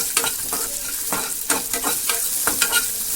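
Chayote fries in a pan with a close, steady sizzle broken by repeated scraping stir strokes in an uneven rhythm, no voices.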